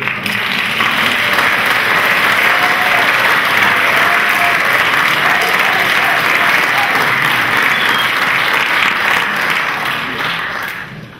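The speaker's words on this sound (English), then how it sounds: "especially a really wonderful applause for Ken" A banquet audience at a botanical society centennial celebration applauds a keynote speaker, with dense, steady clapping that stays loud for about ten seconds before tapering off at the end.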